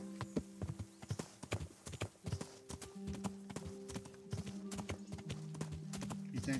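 Horse hooves clip-clop in the Kingdom Come: Deliverance video game, a steady run of sharp close hoof strikes throughout, with tonal game sounds humming underneath.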